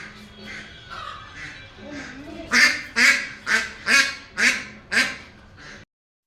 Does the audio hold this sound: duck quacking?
yes